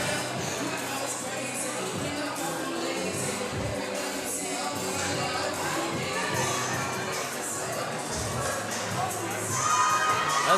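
Crowd at a powerlifting meet cheering and shouting steadily for a lifter's second attempt, a dense, continuous roar of voices with whoops that swells near the end.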